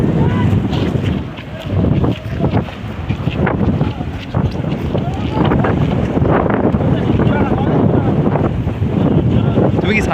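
Strong cyclone Remal wind roars and buffets the microphone beside the Muriganga river, loud and continuous with gusting surges, while voices talk faintly underneath.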